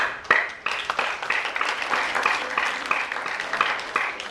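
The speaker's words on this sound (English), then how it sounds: "can we give a round of applause to those who said 4?" Students give a round of applause, with fairly close, brisk, scattered clapping running continuously for a few seconds and no one speaking over it.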